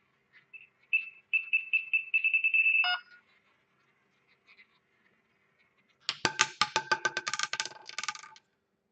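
Rapid electronic beeps from a roulette prediction device speed up into a quick run of tones, then after a pause a bright ding rings out with a jangling metallic tail.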